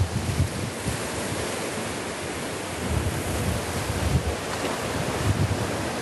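Wind gusts across the Mediterranean shore during rod fishing for sea bream, with surf washing in the background as a steady, fairly loud rushing with buffeting bursts on the microphone.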